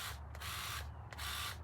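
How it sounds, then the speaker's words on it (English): A hand sprayer drenching garden plants and soil, giving repeated hissing bursts of spray with short pauses between, close and steady. "So I'm just going to spray."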